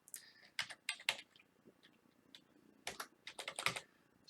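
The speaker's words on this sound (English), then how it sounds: "the keystrokes you're hearing clicking" Computer keyboard typing with mouse clicks in a quiet room: two clusters of quick, crisp keystrokes separated by a brief lull, close to the microphone and fairly soft.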